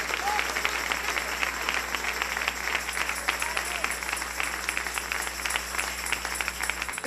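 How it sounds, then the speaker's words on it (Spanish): A church congregation claps steadily in applause during a morning service, a dense, sustained patter of many hands filling the room at even loudness throughout, with a low hum underneath and no voices standing out. "Dele ese aplauso al Rey en esta preciosa y hermosa mañana"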